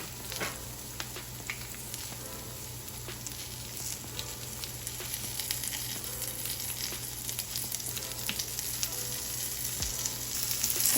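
Mushroom steaks roasting in a hot pan, a close, continuous crackling sizzle with scattered small pops, growing slightly louder, with no talking.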